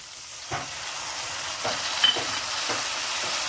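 Prawns and tomato fry in a pan with a steady, loud hiss and sizzle, while a few soft scraping stirs of a spoon come through at intervals.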